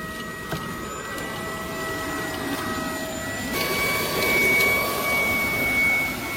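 A Ryobi 18V brushless cordless vacuum cleaner runs steadily inside a car, a close, continuous whine with a constant hum that grows slightly louder and rougher near the end as it pulls at debris.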